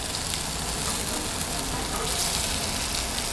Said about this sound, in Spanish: Acá mi compañero Manuel ya está friendo los falafel, como le dijimos, a una temperatura media